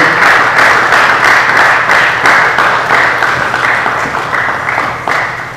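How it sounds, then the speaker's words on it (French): Strong audience applause at an award ceremony, dense and rhythmic clapping that fades slightly toward the end, no talking. "Est-ce que vous pouvez vous joindre à vos applaudissements, mesdames et messieurs?"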